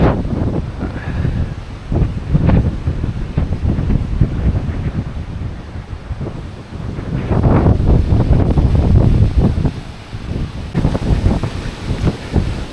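Strong wind roars and gusts across the microphone, rising and falling in loud buffeting waves with no voices.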